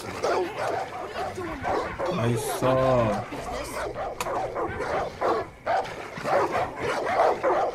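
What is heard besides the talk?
dogs fighting and barking in video game Far Cry 5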